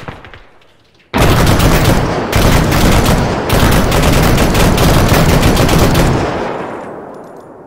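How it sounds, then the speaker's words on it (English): Sustained bursts of automatic gunfire fired through a house wall in the military shooter Arma 3, loud and close, with a few brief pauses between long volleys before fading out. "I'm gonna shoot through the wall."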